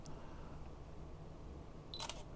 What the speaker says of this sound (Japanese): そしてこれ、タッチでもスイッチ切れる、あの、シャッター切れるんですね。